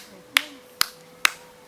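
Four sharp, widely spaced claps ring out at a worship gathering, each a crisp isolated smack with quiet gaps between, sounding like one nearby person clapping rather than a full crowd.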